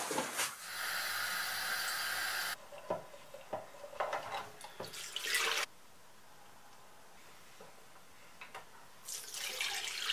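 Tap water runs into a sink to rinse freshly developed 35mm film. It is a loud hissing stream that stops and starts, with softer stretches and small clinks in between, and no one speaks.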